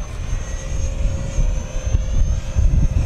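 An FMS Rafale RC jet with a KMRC afterburner and new nozzles flies smoothly at about half throttle. It makes a loud, steady whine that rises and falls slightly as it passes, and no one speaks.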